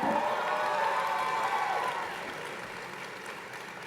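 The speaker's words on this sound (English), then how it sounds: "Give yourselves a round of applause." Graduates at a 2013 winter university commencement clap and cheer with some whoops, the applause fairly distant and fading gradually after the first couple of seconds.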